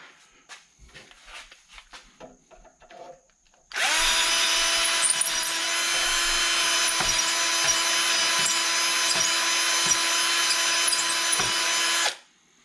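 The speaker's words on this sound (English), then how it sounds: "you want a drill that has a fairly slow RPM" A slow-speed drill bores out a seized brake caliper glide pin, running loud and steady for about eight seconds after a few quiet clicks and handling noises, then stopping abruptly.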